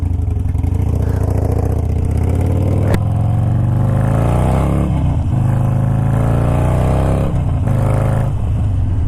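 A 2019 Harley Davidson Sportster motorcycle engine roars on a test ride, loud and close, climbing through revs with rising pitch, a brief clunk of a gear change, then accelerating again with deep throbbing exhaust.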